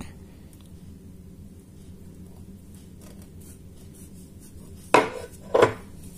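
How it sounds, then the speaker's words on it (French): Knife slicing into a no-bake cake, a quiet stretch followed by two distinct sharp knocks of the blade against the plate or board, close and fairly loud, with no talking. "Je vais vous couper un petit bout de celui-là."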